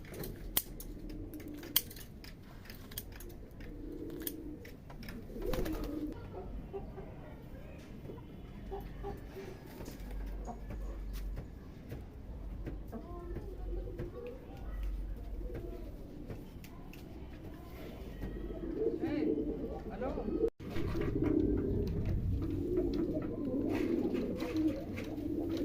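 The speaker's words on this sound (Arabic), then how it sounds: "انا بسيب الحمام كده في السطح عشان يبقى حواليا" Domestic pigeons coo and flutter on a rooftop, with soft, repeated low cooing calls and occasional wing flaps and clicks, faint and close, continuing throughout with a brief sharp knock near the end.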